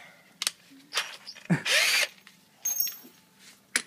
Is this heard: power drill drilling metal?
yes